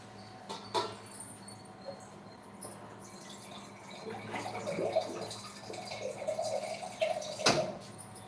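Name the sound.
water being poured while cooking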